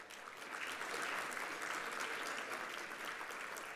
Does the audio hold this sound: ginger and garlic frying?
no